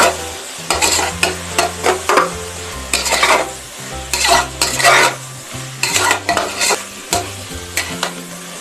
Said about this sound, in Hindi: अब इसे लगातार चलाते हुए थोड़ी देर भून लेंगे।